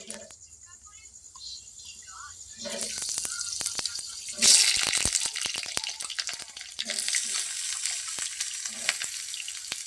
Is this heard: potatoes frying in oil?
yes